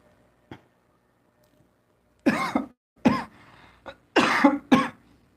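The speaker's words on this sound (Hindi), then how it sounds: "थोड़ा सा खांसी आ रही है" A man coughs several times in a quiet room, a faint throat sound first, then a series of harsh, close coughs in short bursts.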